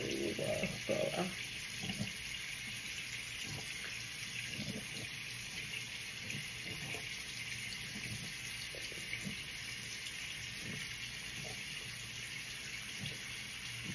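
Tap water runs continuously into a sink as Fenty face scrub is rinsed off, a steady close hiss punctuated by small irregular splashes from hands cupping water, with no talking.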